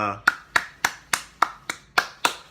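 Eight crisp hand claps in an even, fairly quick rhythm, close by and clear with no voices.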